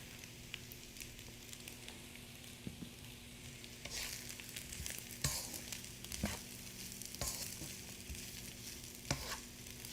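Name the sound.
rice frying in a pan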